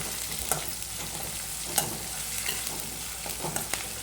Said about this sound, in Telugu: ఓకే, పసుపు వేసినాక కలుపుకుందాం మళ్ళీ ఒకసారి.